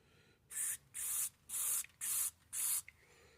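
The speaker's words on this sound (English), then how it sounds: "Oh, you want me to spray it in there?" Five short hissing sprays of aerosol cleaner into a plastic Briggs & Stratton 6.25 lawn mower carburetor, in a steady rhythm, each lasting about a third of a second, with brief pauses between.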